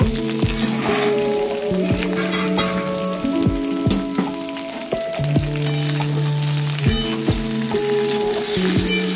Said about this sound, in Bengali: সবজিগুলোকে এবার একটু নেড়ে নেব।